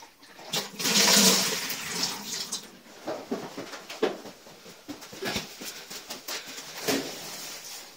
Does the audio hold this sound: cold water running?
yes